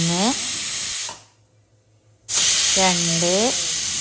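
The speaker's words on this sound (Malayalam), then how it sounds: "2 വിസിലായി. ഇനി കുക്കർ ഓഫ് ചെയ്യാം" A pressure cooker whistles twice over loud hissing steam, its pitch sliding upward each time, with a brief quiet gap between the two blasts.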